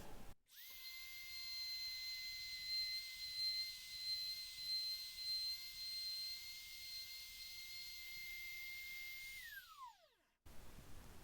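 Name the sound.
router cutting a hinge recess in wood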